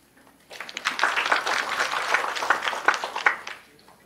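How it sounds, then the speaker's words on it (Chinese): Audience applause at a security conference talk session fills the room, a steady wash of many hands clapping that swells and continues for a few seconds before fading. "那我们再次掌声欢迎一下下一位讲者"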